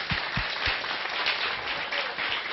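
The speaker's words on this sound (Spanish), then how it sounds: "Otro aplauso fuerte para David." Steady applause from an audience at a talk fills the room for a few seconds, a dense, even patter of clapping with a few louder low thumps near the start.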